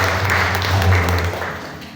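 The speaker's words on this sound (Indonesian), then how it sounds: "Kita berikan tepuk tangan sekali." Church congregation applause at a morning worship service, a brief burst of clapping over a low steady hum that thins out within two seconds.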